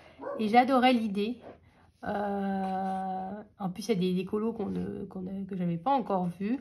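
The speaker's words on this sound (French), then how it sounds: "c'est mon chien, vous entendez" A pet dog in a home gives a sustained whining, bark-like vocal tone for about a second and a half between stretches of someone talking in French.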